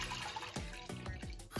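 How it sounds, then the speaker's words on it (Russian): A litre of ordinary milk is poured into a container in a home kitchen, giving a close, soft liquid gurgle with a few quick splashing pulses over a second and a half. "Один литр обычного молока наливаю в"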